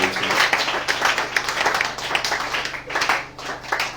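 A church congregation at a prayer gathering claps and applauds for Jesus, a fairly steady wash of many hands that rises and dips and sounds moderately close.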